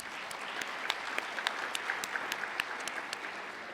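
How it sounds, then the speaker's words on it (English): Audience clapping after a university history lecture on ancient Iran, a steady dense patter of many hands with a few sharper individual claps standing out, moderately distant and sustained for the whole stretch without talk. "How about a hand of applause for our audience?"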